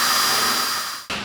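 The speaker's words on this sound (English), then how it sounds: "So just take your 1/4-inch drill" Quarter-inch drill boring out a bolt hole while fitting a Smittybilt XRC corner guard, a steady high motor whine that winds down and stops, then a short final burst.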